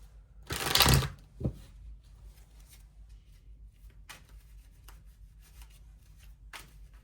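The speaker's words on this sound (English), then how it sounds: "I will shuffle these just for the good of the cause here." A brief burst of tarot cards being shuffled near the start, a quick riffle followed by a soft tap, then faint handling noises in a quiet room.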